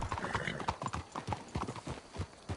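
Horses clip-clopping in Red Dead Redemption 2: steady, fairly soft hoofbeats at a walking rhythm on hard ground, with faint voices in the background.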